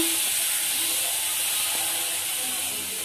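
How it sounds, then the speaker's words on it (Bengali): Prawns dry-fry without oil in a Prestige pan on a gas stove and release their water, producing a loud, continuous steamy hiss close up that fades slightly toward the end, with no speech. "চিংড়ি মাছগুলা ভেজে নেব।"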